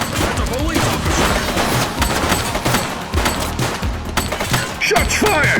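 Heavy gunfire erupts during a police shootout in The Precinct, rapid overlapping shots and booms packed tightly together, loud and close, with shouted voices cutting through the chaos.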